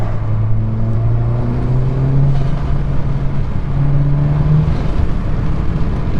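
A VW Golf R MK7.5 with a CTS intake, turbo inlet pipe and turbo muffler delete accelerates with a steady engine drone that rises through the gears in two pulls, heard from close by with no talking.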